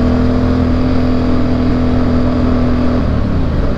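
A modified Yamaha Byson motorcycle holds a loud, steady high idle-like tone for a few seconds, then the pitch breaks and shifts as the throttle changes, heard close up and continuously.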